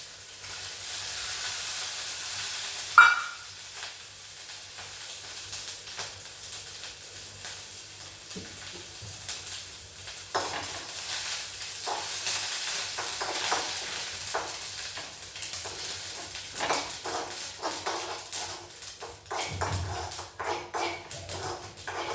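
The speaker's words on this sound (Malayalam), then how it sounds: "കടുകിടാം, കറിവേപ്പില ഇടാം." Mustard seeds and curry leaves hit hot oil and give a bright, steady sizzling hiss that softens into quieter crackles and pops, faint and close, with no talking.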